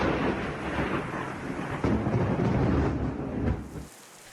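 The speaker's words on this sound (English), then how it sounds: "The region copping 15 mil of rain this afternoon along with thunderstorms." Steady heavy rain with a deep rolling rumble of thunder from a thunderstorm, loud and continuous for a few seconds before cutting off abruptly.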